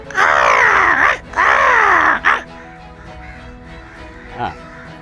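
A flock of crows caws loudly after being called in a Tamil village setting, two long harsh bursts followed by a shorter one, then a faint distant caw later on.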